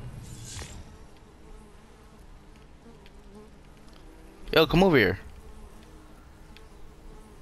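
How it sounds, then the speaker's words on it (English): Bees buzz in the Fortnite video game, a loud close swell lasting under a second midway, with a brief voice speaking near the start and faint game ambience throughout. "I hear bees."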